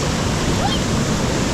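Waterfall in a rainforest, a steady, loud broadband roar of falling water filling the scene without letup.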